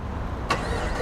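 A Holden Commodore SS V Redline VF sedan's engine starts by remote, a sudden sharp crank burst midway through, then settling into a steady low idle hum nearby.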